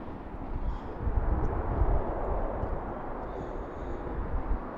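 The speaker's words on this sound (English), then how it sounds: "Can you hear the aircraft sounds all right?" A small executive jet taking off from runway 33 right at BWI airport produces a steady broadband roar that swells and holds, heard from a distance without talk.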